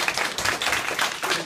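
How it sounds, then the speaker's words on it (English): A small game-show audience gives a short, scattered round of clapping after a contestant finishes playing a history quiz, the claps uneven and fairly close. "Round of applause."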